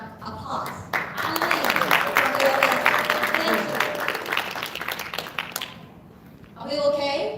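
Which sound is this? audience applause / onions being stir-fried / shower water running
audience applause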